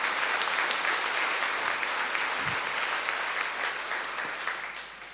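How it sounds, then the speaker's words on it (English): A comedy show audience claps steadily in a sustained, dense round of applause that slowly tapers off toward the end, with no talk over it. "Let's have a round of applause for that person's foresight"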